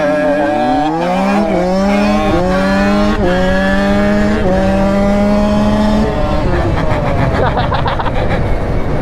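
Quad ATVs, a 350 and a 125, race past with loud engines revving and climbing in pitch through repeated gear changes, then roaring off as a second engine buzzes nearby.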